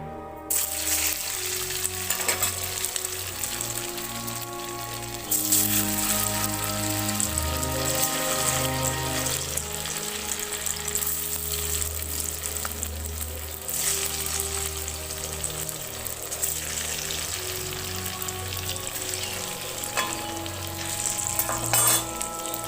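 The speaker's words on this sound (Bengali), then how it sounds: "এবার এগুলোকে আমি এক এক করে ভেজে তুলব।" Square pieces of young corn frying in hot oil over a high flame, a loud continuous sizzle with occasional stirring, close and steady throughout with no talking.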